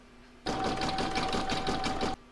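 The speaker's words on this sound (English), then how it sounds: "I'm now going to put that back in my machine and stitch round number 9 to join them" A sewing machine runs in one steady burst of about two seconds, stitching a round on a placemat with a close, even whirring hum, starting and stopping abruptly.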